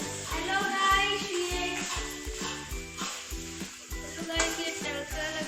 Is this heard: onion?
yes